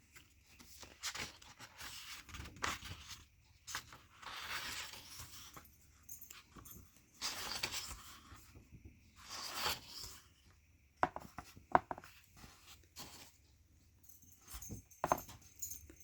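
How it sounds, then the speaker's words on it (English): Scrabbling paws and panting from a dog moving close by, with rustling, tapping and scuffing noises coming in irregular bursts. "well, that's my dog coming."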